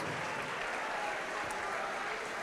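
A church congregation claps together in dense, continuous applause, a broad steady wash of many hands with no pauses, fairly loud and close.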